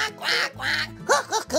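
A person imitates a duck, quacking several times in quick succession with a nasal, comic voice.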